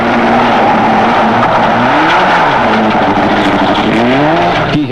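A small turbocharged Mazda rally car at an autocross roars loud and close, its engine note rising and falling through repeated revs and gear changes, with some tire noise mixed in.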